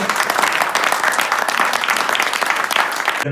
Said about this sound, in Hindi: वक्त के लिए तालियां चाहिए